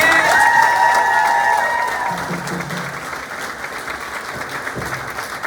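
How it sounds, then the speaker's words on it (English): An outdoor crowd at a recovery walk applauds and cheers loudly at first, with whoops and a few raised voices, then the clapping fades to a lighter patter. "Give yourself an applause."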